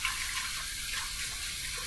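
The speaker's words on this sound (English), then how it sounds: "we're going to add some water to the sink" Tap water runs steadily into a bathroom sink while it fills for a wet shave, a constant close hiss and splash with no talking.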